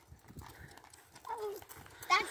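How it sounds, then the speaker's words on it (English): Faint hoof clops and a brief whinny-like horse sound amid soft background noise during horse riding and training, with people talking nearby. "That one makes horse noises."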